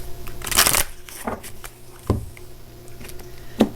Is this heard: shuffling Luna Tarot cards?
yes